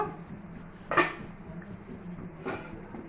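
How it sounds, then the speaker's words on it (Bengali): The metal lid comes off a cooking pot of vegetarian steamed pointed gourd with one clear clank close by. A quieter metallic tap follows about a second and a half later, with soft kitchen ambience in between. "এখন ঢাকনাটা তুলে নেব"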